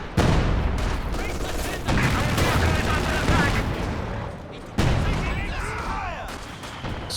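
Heavy mortar fire in Company of Heroes 2 during a 2v2 match, dense booming gunfire and blasts rolling continuously under a speaking commentator, with sharp impacts near 2 and 5 seconds.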